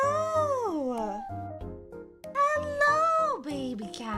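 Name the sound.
pet cat meowing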